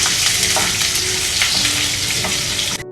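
Mint, curry leaves and green chillies sizzle loudly in hot oil in a pan for a Kerala chicken perattu, with soft scraping as they are stirred and no talking, until the sound cuts off abruptly near the end.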